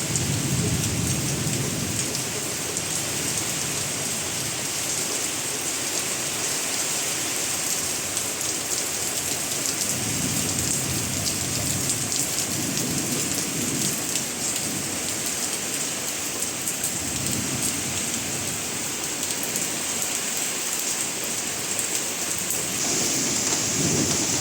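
Heavy rain falls steadily through a storm, a dense, continuous wash with low thunder rumbling underneath, loud and unbroken throughout with no voices.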